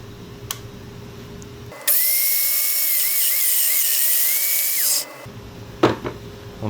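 A Domino joiner cuts mortise holes in wood, its motor spinning up into a loud, steady high whine for about three seconds before winding down, with faint clicks and handling noise before and after.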